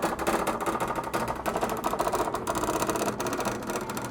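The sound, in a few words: embroidery machine stitching a design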